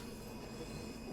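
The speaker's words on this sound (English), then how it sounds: "Do you reckon that's our train?" A train in the video game Train Sim World 2, with the Spirit of Steam content, rumbles quietly and steadily, with faint wheel squeal over a low, continuous rolling drone.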